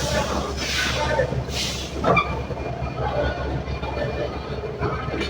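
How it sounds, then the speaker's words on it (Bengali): The Dhaka-bound Jahanabad intercity express pulls out of Khulna railway station in the early morning. A steady low rumble with faint rolling clatter is heard from on board, with muffled voices in the background. "আমাদের ঢাকামুখী আন্তনগর জাহানাবাদ এক্সপ্রেস ছেড়ে যাচ্ছে খুলনা রেল স্টেশন"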